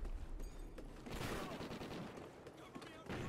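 Chain SAW machine gun from Call of Duty Ghosts firing in dense, sustained bursts of rapid gunfire, loud and close, with brief pauses between volleys.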